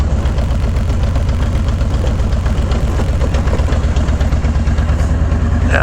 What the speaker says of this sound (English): Yeah, that's why I'm bogging. I'm in second gear.